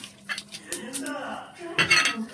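Mustard oil, asafoetida and dried chillies go into a wok for a chutney tempering, with close, bright metallic clinks and clatters of a spoon against the pan in short bursts while someone talks.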